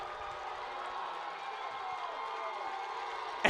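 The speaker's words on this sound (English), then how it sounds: "You hear a little bit of cheering and a little bit of booing." High school football crowd at a Cedar Catholic vs Battle Creek game gives off a faint, distant murmur of mixed cheers and boos after a run, with a sharp sound at the very end.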